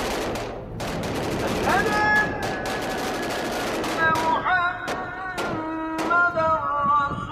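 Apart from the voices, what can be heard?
sustained gunfire and machine gun fire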